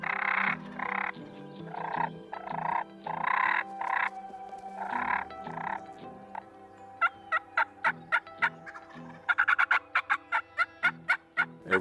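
Wild turkeys gobbling during a spring turkey hunt in Missouri, with a run of loud, repeated gobbles rising into rapid, clustered bursts near the end, clear and close with no talk.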